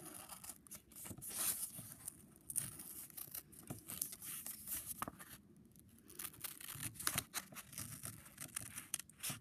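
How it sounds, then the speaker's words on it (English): Scissors snipping through folded paper to cut out a bat shape, a run of short crisp cuts and rustles in irregular bursts, close and fairly quiet with no talk. "Now you're gonna take your scissors again. Don't open it. Just cut along the dark areas."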